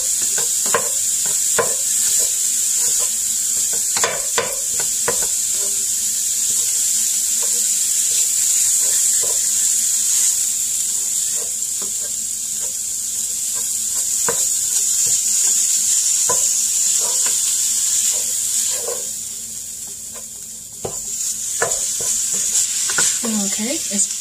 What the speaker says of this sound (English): just get it in here and get it broken apart. Kind of break it apart so we can start cooking.